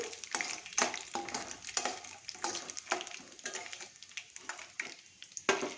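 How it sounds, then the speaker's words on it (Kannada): About three spoonfuls of peanuts fry in hot oil in a pan, giving a close, steady sizzle broken by frequent small crackles and pops. "ಇವಾಗ ಒಂದು ಮೂರು ಸ್ಪೂನ್ ಕಡಲೆಕಾಯಿ ಬೀಜ ಹಾಕ್ತಾಯಿದ್ದೀನಿ ಇದೆಲ್ಲ ಸ್ವಲ್ಪ ಚಟಪಟ ಅಂತ ಹಿಡಿದು ಸ್ವಲ್ಪ ಕೆಂಪಗಾಗಲಿ"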